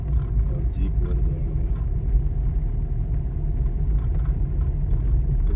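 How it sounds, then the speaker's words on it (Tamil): A jeep on a forest road in the Kallatti–Masinagudi area approaches as a steady, low engine rumble that stays constant throughout, heard from inside a moving vehicle. "ஒரு ஜீப் வருது."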